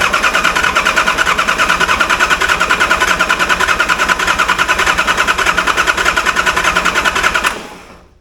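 An International AL truck fitted with a Patrol cab cranks over steadily with a fast, even rhythm for about seven seconds without catching, then cuts off abruptly.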